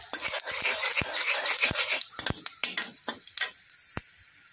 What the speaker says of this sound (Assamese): ৰৈ যোৱা তেলখিনিতে মই পিঁয়াজটো দিলোঁ।